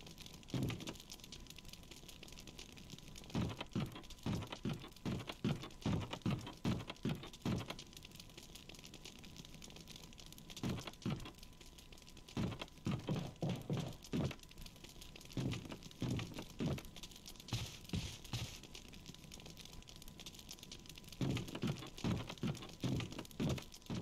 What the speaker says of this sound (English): There's the typewriter.